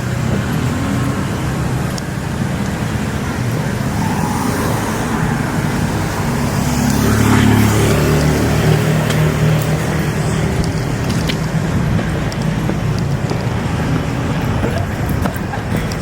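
Steady roadside traffic roars continuously, and a car passes close by with a slight swell in the middle.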